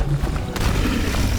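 Airborne turrets firing in Hollow Knight Silksong, heard as dense low booming thuds with a sharp impact midway, layered under a continuous rumble of game noise.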